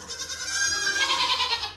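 A goat on a milk stand lets out a loud, drawn-out bleat close by, one continuous wavering call with no talking over it.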